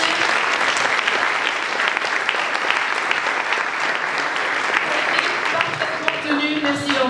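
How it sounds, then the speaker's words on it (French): Sustained, loud audience applause fills the hall at an eco-construction presentation in Brittany, steady clapping from a large crowd without a break from start to finish. "vous pouvez l'applaudir"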